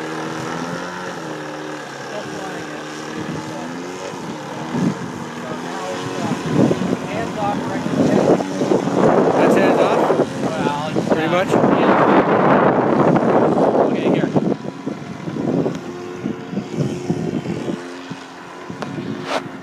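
RC helicopter fitted with a Cortex gyro flying outdoors, its rotor and motor whine rising and swelling loudly in the middle before easing off, with wind buffeting and people talking nearby.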